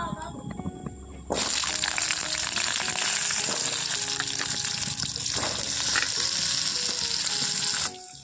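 Potatoes drop into hot oil spiced with panch phoron and burst into a loud, sustained sizzle that holds steady for several seconds before easing off, with a few scrapes of stirring.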